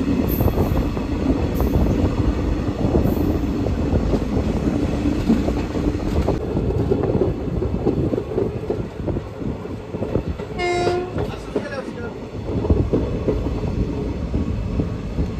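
The Latur–Pandharpur special passenger train rumbles along steadily with loud rolling rail noise, a short horn blast cutting through near the middle before the clatter carries on, no voices.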